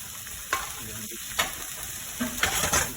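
Cabbage frying in melted butter in a pan, a steady close sizzle broken by a few scraping stirs, with no speech over it.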